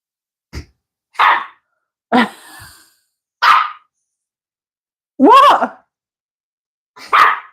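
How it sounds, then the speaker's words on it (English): Several short, loud barks or huffs come in separate bursts with silent gaps between them, close by and irregularly spaced. "She's barking at me."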